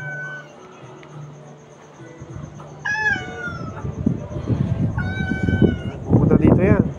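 A recorded cat meowing, played back to lure a cat: two or three drawn-out rising and falling meows from a phone speaker, mixed with people talking nearby and background rustling.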